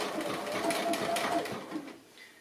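A sewing machine stitching felted wool appliqué, a close, steady mechanical whir with fast rhythmic needle clatter that slows and stops near the end.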